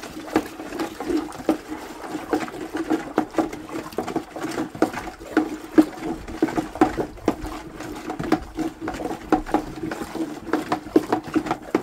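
Gold bond wires are stirred in liquid, making a wet, irregular swishing and light sloshing with frequent soft clinks, steady and close throughout.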